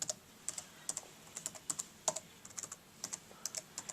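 Key presses on a Dell Inspiron 1545 laptop keyboard, a steady run of crisp, close clicks in an uneven typing rhythm with brief pauses, no voices.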